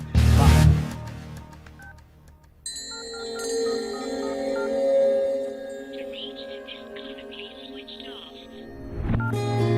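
Telephone dialing tones sound as clear electronic beeps and sustained tones over a background of mixed noise, ending in a louder burst.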